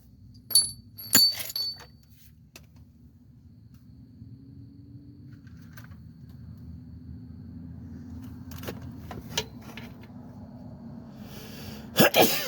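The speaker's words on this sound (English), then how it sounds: "Hey, sneezing." A single sharp sneeze from someone working under the hood while installing an alternator on a 2019 Mazda 3. It comes near the start over a low engine-bay rumble, with clinks of tools and keys later.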